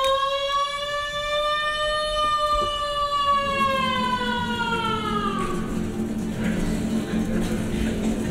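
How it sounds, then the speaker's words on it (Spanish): A siren marking the start of work at a factory rises to a steady wail for about five seconds, then stops, leaving low background noise and a faint murmur. "la sirena va a sonar"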